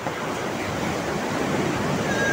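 Waves wash onto a small beach at Karanghaji, a constant broad surf rush with wind noise, close and fairly loud throughout.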